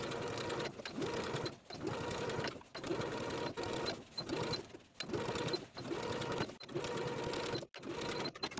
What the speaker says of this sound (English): we're going to top stitch the seam allowance to the bottom of the upper sleeve